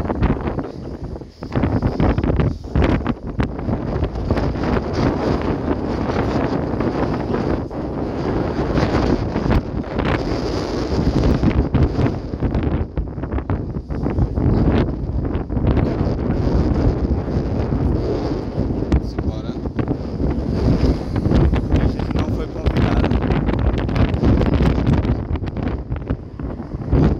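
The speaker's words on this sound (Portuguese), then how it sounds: "Tá ventando" Strong wind buffets the microphone outdoors by a new convention center in Recife, giving a loud, continuous rumbling roar with gusty surges throughout and no speech.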